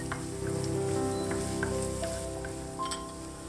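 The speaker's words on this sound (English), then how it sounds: "Add half the minced ginger and half the minced garlic. Stir fry for about 1 minute." Minced ginger and garlic stir frying in a hot pan, a close, steady crackling sizzle with light spattering pops and a faint tonal hum underneath.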